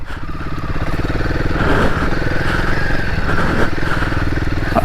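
A Royal Enfield Himalayan 450 chugs along an off-road trail in first gear, its single-cylinder thump steady and close, rising a little in revs, with light clatter on the rough ground.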